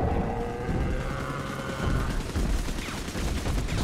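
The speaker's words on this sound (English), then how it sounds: "There's an automated turret." An automated turret in the video game Bioshock 2 fires without a break, making a dense, steady rattle of rapid shots mixed with mechanical whirring at moderate loudness.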